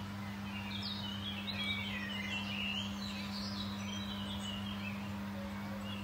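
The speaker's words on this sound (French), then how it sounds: "on n'entend que le bruit des oiseaux" Several birds chirp and sing at a distance over a steady low hum, with no one talking.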